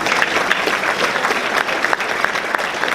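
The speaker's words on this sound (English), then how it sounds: "Please give him a round of applause." Steady, dense applause from an audience at an awards dinner gala, loud and continuous clapping throughout with no voices over it.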